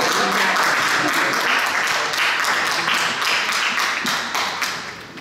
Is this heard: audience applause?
yes